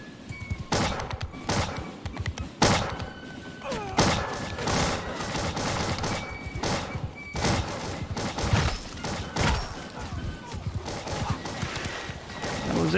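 Musket volleys crack out in a Bannerlord Empires of Europe 1700 mod battle, repeated sharp bursts spread through the clip over a dense din of horses and fighting, with talk in the background.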